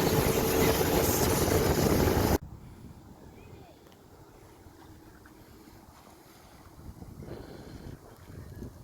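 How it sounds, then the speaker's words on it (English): A boat rides out on a river, with loud wind buffeting and water rushing at first, then a quieter steady wash of water and motor rumble. "We're gonna go out on the river, ride the boat."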